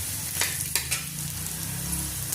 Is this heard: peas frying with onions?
yes